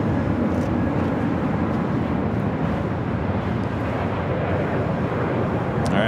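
An airplane at Los Angeles LAX airport produces a steady, broad engine roar heard from a distance, constant throughout with some wind buffeting on the microphone and no talk.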